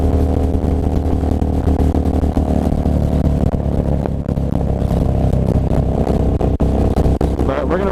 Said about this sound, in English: Stay a little bit of in a lower gear, keeping your RPMs up